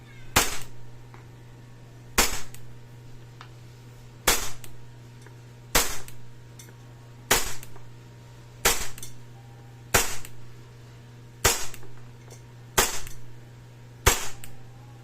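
A WE Hi-Capa 5.2 airsoft pistol fires BBs, nine or ten sharp snapping shots spaced about every one and a half seconds, each followed by a brief rattle, over a steady low background hum.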